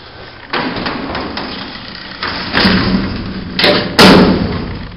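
A Montgomery freight elevator door clanks and bangs as it locks, several loud metallic thuds in succession, the last ones heaviest, over a low mechanical rumble.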